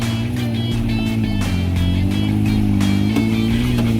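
Petrol car engine held at steady high revs while straining off road on a slippery slope, a loud continuous drone with slight pitch shifts throughout.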